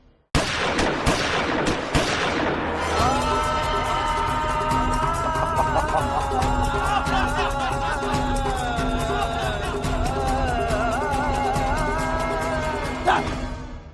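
Sustained gunfire follows a shouted order to fire in a dramatic Hindi TV battle scene, with sharp bursts over a dense, continuous musical score that runs loud and unbroken.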